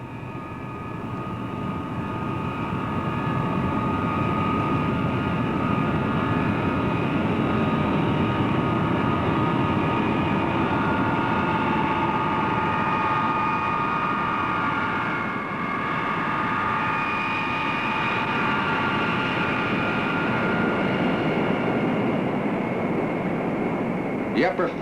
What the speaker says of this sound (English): the B-52 pilot taxis to the takeoff runway